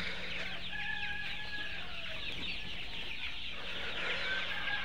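Layer hens cluck and chatter steadily on a poultry farm in cold winter weather, a dense flock sound with a faint low hum underneath and no talking.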